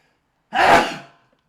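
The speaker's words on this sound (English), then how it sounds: "I'm going to sneeze again" A single sharp sneeze bursts out suddenly and loudly, then fades with a brief breathy tail before silence.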